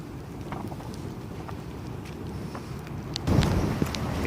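Strong Hurricane Doris wind roars outside a polytunnel as a constant low rumbling rush that grows louder in a gust near the end, with no talk.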